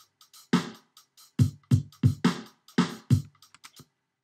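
A programmed drum pattern with punchy kicks and snares in quick succession, ending in a rapid run of hits like a fill, with light hats between.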